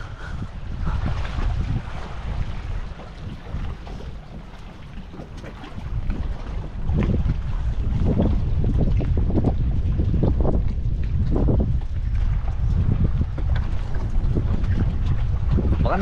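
Fishing boat motoring past on open water, a steady low rumble under gusty wind noise on the microphone, swelling louder in the second half, with faint voices in the background.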